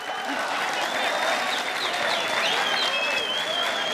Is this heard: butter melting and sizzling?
no